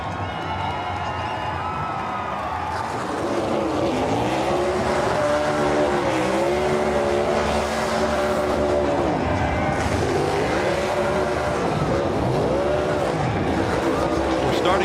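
A NASCAR Cup Series stock car from 2022 does a burnout, its engine roaring loudly and revving in repeated rising and falling sweeps with tire squeal, crowd noise beneath, and a commentator talking throughout.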